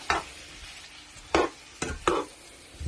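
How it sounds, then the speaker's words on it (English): Onions, celery and carrot frying in a pan get stirred in a few distinct scraping strokes, separated by pauses, with a faint sizzle underneath; no one speaks. "Add it to the pan and just give it a good stir"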